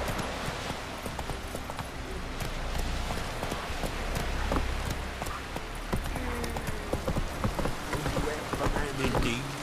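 Horse hooves clip-clop steadily at a riding pace in The Witcher 3: Wild Hunt, a close, continuous rhythmic trot over ambient background noise, with a voice speaking briefly.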